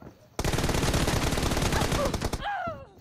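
Rapid automatic gunfire from the PUBG battle royale video game, a dense loud burst of shots lasting a couple of seconds, then a short whistling ricochet-like tail.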